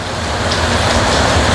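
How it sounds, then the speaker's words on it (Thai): Steady rain falling, a dense, continuous hiss that holds evenly loud throughout with no voices. "ฝนตก"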